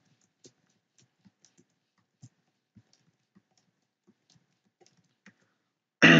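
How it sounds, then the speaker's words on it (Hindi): Numbers are typed into Excel on a computer keyboard as sparse, quiet, close key clicks at irregular intervals against near silence, ending in a sudden loud burst of noise. "मैं यहाँ पर कुछ नंबर एंटर कर लेता हूँ।"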